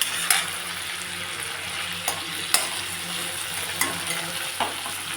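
Onions sautéing toward golden brown for a mutton and potato curry, a continuous loud sizzle broken by several spoon scrapes and taps against the pan, no speech.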